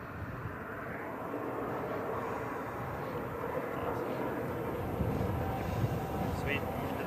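A military jet in maximum afterburner at the Hill Air Show makes a steady, broad roaring rumble that holds for several seconds from a distance, with faint voices underneath.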